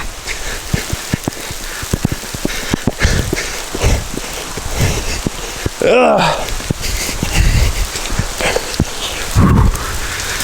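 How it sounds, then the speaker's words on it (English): Steady rain pouring at a Florida state park campground, a dense hiss of drops on surfaces with occasional louder patters, close and continuous while a person groans briefly and hurried movement is heard. "So the rain's returned, so we gotta try to run here to not get my camera soaking wet."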